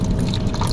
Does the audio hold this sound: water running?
yes